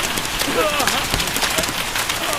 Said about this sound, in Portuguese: Tá chovendo granizo!